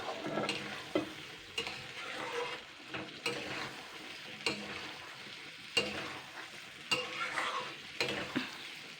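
Eggplant frying in fish oil without water, stirred briskly in a pan: repeated scraping strokes roughly every second over a continuous close sizzle, with no talking.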